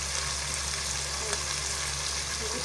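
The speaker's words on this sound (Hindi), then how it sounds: "मैंने भूनने के बाद फिर मुझे लहसुन का पेस्ट डाला।" Garlic paste frying in a pan with whole garam masala spices, a steady broadband sizzle with faint stirring scrapes, alone and at an even level throughout.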